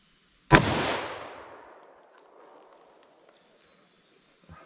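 A single loud close gunshot from a .357 Magnum snub-nose revolver firing a soft point round, a sharp crack followed by a long fading echo, then quiet with faint small noises.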